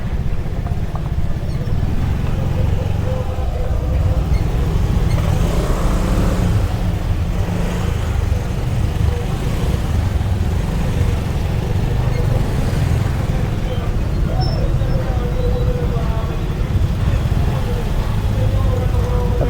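Slow-moving street traffic on Legian Street in Kuta, Bali, heard up close from a motorbike: continuous engine rumble and passing vehicles with occasional revving, under intermittent talk.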